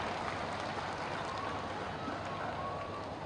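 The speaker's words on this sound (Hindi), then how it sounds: "तो एक बार इनके लिए भी ताली बजा दीजिए।" Steady crowd applause from an audience at a Bihar election rally, a dense, even patter of clapping held at moderate loudness throughout, with no other sound rising above it.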